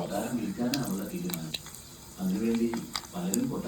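Mustard seeds crackle and pop in hot oil in a pan for a fish curry, a steady bed of frying sizzle with scattered sharp spits, swelling louder in bursts.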